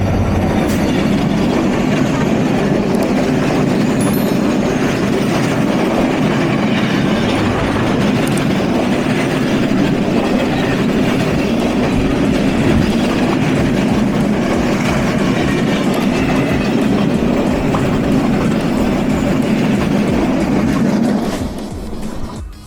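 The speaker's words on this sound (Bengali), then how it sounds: "টাঙ্গাইল রেলওয়ে স্টেশন থেকে ক্রসিং এবং যাত্রাবিরতি স্বয়ং সম্পূর্ণ করে আমাদের টাউন সিল্ক সিটি যাত্রা শুরু করলো" Silk City Express intercity train pulling out of Tangail railway station in Bangladesh, a steady, loud rumble of wheels and carriages with faint clickety-clack rhythm continuing without a break for about twenty seconds before easing slightly.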